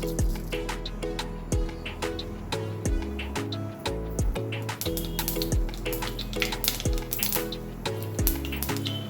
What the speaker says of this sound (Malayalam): കടുകൊക്കെ പൊട്ടുന്നുണ്ട്